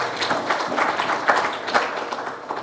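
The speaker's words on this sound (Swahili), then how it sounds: "Makofi kwa kampuni ya Jairuti tafadhali" Clapping for the Jairuti company rises from an audience at a football club gathering, steady and dense at close range, with scattered louder claps and no voices on top.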